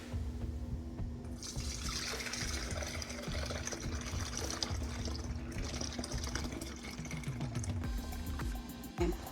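Lemon pie filling mix, made with cold water, is poured from one container into a bowl, a continuous liquid pour and trickle heard close and fairly quiet throughout.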